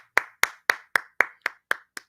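Eight sharp hand claps in a steady, evenly spaced rhythm, close and clear, with nothing else heard.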